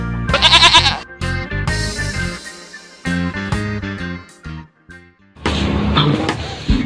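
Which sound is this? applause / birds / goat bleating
goat bleating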